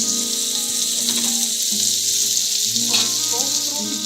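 Okra frying in a pan over high gas, a bright continuous sizzle with occasional stirring clinks, with a voice talking over it at times.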